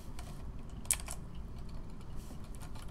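Keystrokes on a computer keyboard while entering script code in Roblox Studio, a sparse run of soft clicks with one sharper tap near the start, faint and close against a quiet room hum.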